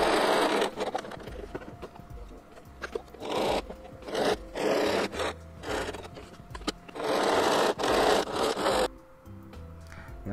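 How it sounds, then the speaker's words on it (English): A sewing machine stitches all the way around a pocket to attach it to a fat-quarter child's apron, running in loud bursts with brief pauses between them and a quieter stretch near the end. "you're going to sew all the way around to sew your pocket onto your apron"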